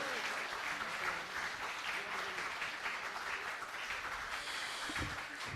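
Applause from an audience at a poetry recitation, a dense, steady wash of clapping filling the whole stretch, with a voice briefly heard under it.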